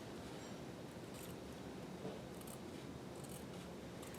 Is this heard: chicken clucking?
no